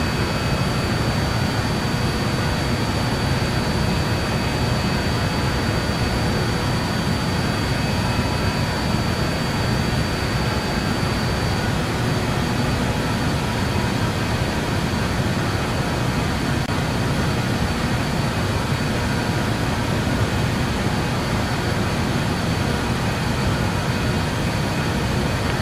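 BAe 146 jet engines in Microsoft Flight Simulator produce a steady, loud, unbroken broadband roar inside the cockpit, holding constant throughout with no pauses.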